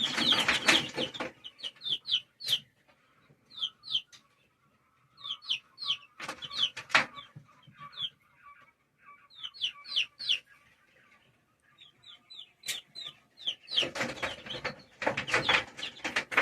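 Hens cluck and small chicks peep in repeated bursts, close by, with scattered rustling between calls.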